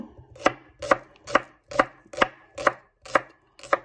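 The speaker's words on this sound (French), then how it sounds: "On coupe tout en lamelles, hein, tout en lamelles." Shallots sliced into thin strips with a knife on a cutting board, eight evenly spaced crisp chops in a steady rhythm, close and clear with no talk.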